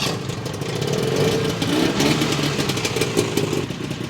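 A snowmobile engine idling steadily after a half-turn adjustment of the air screws, a loud, close, continuous burbling drone with slight unevenness and no speech.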